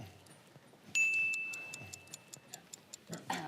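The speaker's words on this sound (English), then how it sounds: "can we get a minute on timer on the clock?" A game-show timer clock ticking at a steady pace, quiet and clipped, with a sharp tone sounding as the minute countdown starts.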